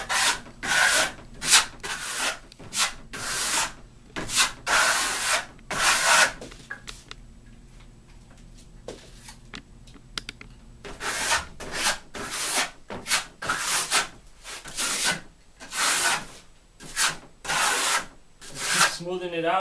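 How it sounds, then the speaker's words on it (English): A stainless steel trowel spreads Marmorino KS Venetian plaster base coat over a board in repeated rasping, scraping strokes, close and rhythmic, with a quieter pause in the middle. "we're going to get our stainless steel top quality trowel, and we're going to apply the KS in a smooth coat over the whole board."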